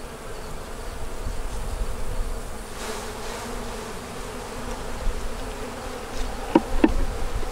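Honey bees drone steadily around an open hive worked without smoke, a dense continuous buzz close by with a few louder passes and faint handling knocks near the end.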